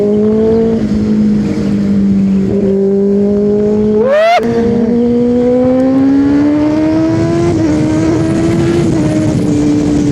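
A vehicle engine drones steadily nearby, its pitch rising briefly in a quick rev before settling back into a continuous hum.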